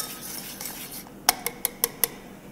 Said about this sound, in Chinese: 混合均匀。